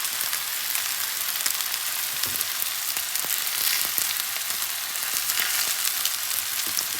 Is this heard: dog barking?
no